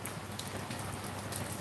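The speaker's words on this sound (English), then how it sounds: "It's raining. It's raining again." Steady rain falls continuously, a dense even patter of drops on a surface with no voices, like a downpour during an atmospheric river storm.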